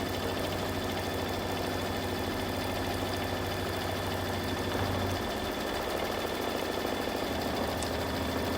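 An embroidery machine runs steadily, stitching grid-line quilting channels on a Kimberbell mug rug, with a continuous mechanical hum and rapid needle rhythm; a low tone drops away partway through.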